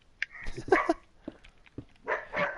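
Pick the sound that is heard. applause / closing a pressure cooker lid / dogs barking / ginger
dogs barking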